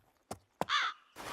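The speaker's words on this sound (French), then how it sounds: "sale corbeau!" A crow gives harsh caws near and loud: two short sharp calls, then two longer rasping caws, clear of other sound.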